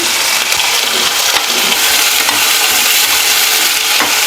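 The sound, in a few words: washed wet turkey berries sizzling while sautéed in oil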